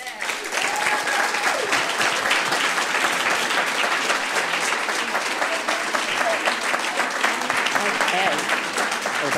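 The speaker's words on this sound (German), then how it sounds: "begrüßen Sie bitte mit großem Applaus hier auf der Bühne Michael Bully Herbig" Sustained loud applause from a large audience greeting a guest on stage fills the space, steady and dense throughout, with faint voices mixed in.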